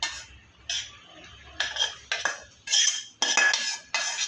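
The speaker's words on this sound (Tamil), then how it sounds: "நல்லா கிளறிடுங்க." Semolina being stirred into milk in a pot on a stove, a metal spoon scraping and clinking against the pot in repeated short bursts, close and fairly loud, with no talking.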